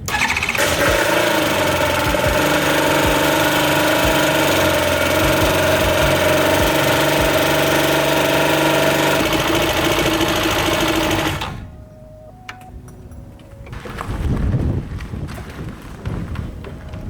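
A small aircraft engine with no propeller fitted fires up on its first start and runs at a loud, steady, close-range buzzing drone for about eleven seconds before cutting off, followed by quieter clatter and handling noise.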